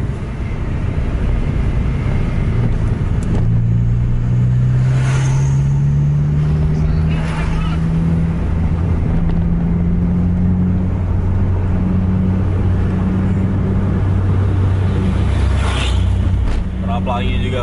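Several Scania buses race along a road, their engines droning loud and steady with rising gear tones and passing traffic, under continuous commentary from a person speaking.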